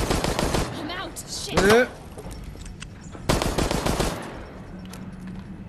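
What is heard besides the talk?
gunfire in Resident Evil Resistance video game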